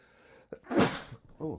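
One sharp, breathy sneeze bursts out close to the mic, followed by a brief bit of speech.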